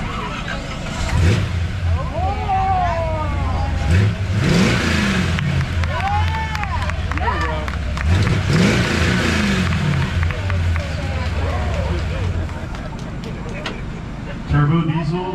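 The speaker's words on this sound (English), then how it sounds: "Chris, start your engine" At an outdoor charity truck and Jeep show, a pickup engine turns over and is revved in repeated rising and falling bursts, loud and close, while a crowd murmurs and people talk in the background.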